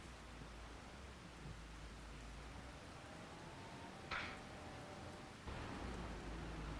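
Steady rain falls in a Farming Simulator 25 game on an Irish farm, a soft, even hiss running throughout with a faint thump near the end.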